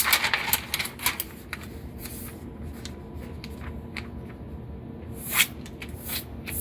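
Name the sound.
folding butcher paper to line a soap mold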